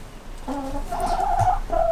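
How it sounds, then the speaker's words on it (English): An Ancona rooster gives a few short, throaty calls in quick succession, close by and moderately loud, with no voices. "I have a black mottled rooster with a very nice tail"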